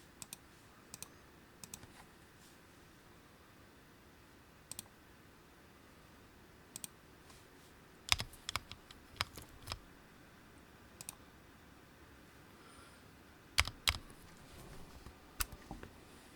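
Keystrokes on a freshly soldered custom-built keyboard, scattered clicks and short bursts of taps over a quiet hiss, faint and close with long pauses between presses.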